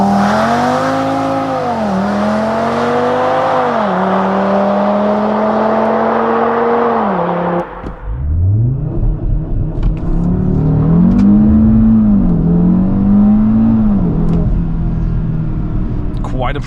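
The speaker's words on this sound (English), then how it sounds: "So let's launch this VZ5 BAT Edition into a nice sunset." A 450 hp Cupra VZ5 BAT Edition on winter tires launches hard, its engine loudly revving up through rising pulls with gear-change dips, then a brief drop before it climbs again, close and dominant throughout.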